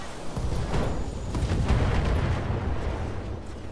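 Mech weapons open fire in the Battletech video game, producing a dense, continuous barrage of rumbling booms and blasts that stays loud throughout.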